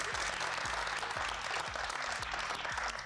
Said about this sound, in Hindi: तालियां अपने लिए.